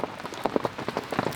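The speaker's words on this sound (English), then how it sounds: "it's raining still." Steady rain falls at a fishing lake at night in France, a dense patter of drops on nearby surfaces with scattered louder splashes, continuous and close, with no voices.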